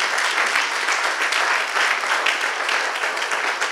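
A church congregation applauds steadily and loudly, a dense wash of many hands clapping together throughout, with a brief spoken word near the start.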